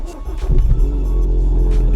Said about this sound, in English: we just simply turn it on, like fire the engine up